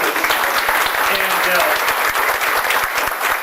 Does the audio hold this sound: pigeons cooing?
no